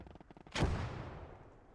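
A single deep artillery blast from a World War II battle in Gates of Hell: Ostfront lands after a faint rumble, then rolls off into a fading low boom.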